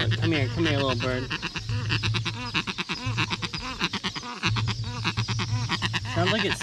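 A bird gives repeated harsh, wavering calls close by at Lac Tele Community Reserve, Republic of the Congo, mixed with people talking over and between the cries.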